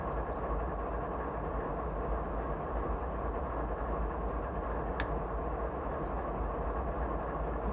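An ES44AC Canadian Pacific locomotive in Train Simulator 2015 slows on a mountain pass, with a steady loud rumble of heavy wheels and engine filling the whole stretch and a brief sharp hiss partway through.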